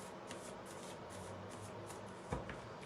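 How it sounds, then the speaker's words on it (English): Tarot cards shuffled by hand in a steady, soft riffling rustle, close and quiet, with one brief sharper tap near the end and no voices. "Let me shuffle the cards."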